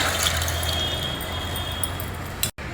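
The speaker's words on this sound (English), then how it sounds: "Now we'll add this washed dal along with this water." Washed tur dal and its soaking water are poured into a cooking pot, a steady close splash and gurgle of liquid lasting a couple of seconds before a brief clunk and a sudden cut.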